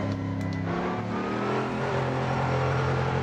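A Mercedes-AMG race car in Assetto Corsa on the Nordschleife revs hard, its engine note climbing steadily through the gears, loud and continuous, with no talk.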